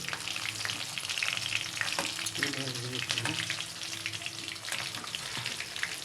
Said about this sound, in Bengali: তো মাছ ভাজা এখন হচ্ছে শেষের দিকে